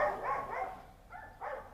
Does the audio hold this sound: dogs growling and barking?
yes